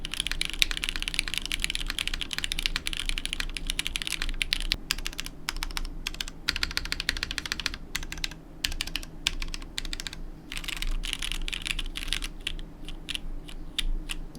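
Steady typing on a mechanical keyboard with MX Black switches mounted on a carbon fiber plate, a continuous run of close, crisp keystrokes with brief pauses between bursts.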